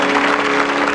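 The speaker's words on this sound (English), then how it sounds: "Give them a great round of applause, folks." Dense, steady clapping from a television game show studio audience, loud and continuous throughout, with no voices over it.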